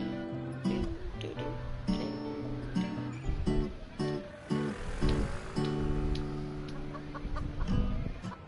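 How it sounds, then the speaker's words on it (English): Chickens cluck and squawk in Dreadout 2, a string of close, loud, tonal calls coming in short bursts and longer drawn-out phrases over a busy game backdrop. "I hear chickens."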